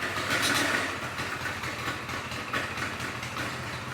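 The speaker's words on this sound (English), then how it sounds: "Sounds like the choke's on." A 1980 Camaro Z28 engine runs with the choke on, a rough, uneven idle rumbling steadily at moderate volume with a slightly louder surge at the start.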